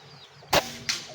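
A Mini Predator X toy gun, upgraded, fires with a sharp loud crack, followed about a third of a second later by a fainter second snap, with no talk.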